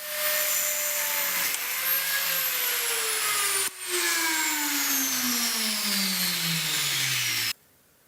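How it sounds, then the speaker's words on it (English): An angle grinder grinding the tips off steel pieces before welding, a loud close whine whose pitch slowly drops as the disc bites and loads, with a brief dip midway and an abrupt stop near the end. "Here's another makeshift locking system to grind off a bit of the tips, preparing the pieces for welding."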